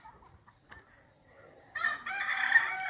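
Egg-laying hens and a rooster on a small morning ranch, with faint scattered clucks at first, then a loud sustained crow rising near the end.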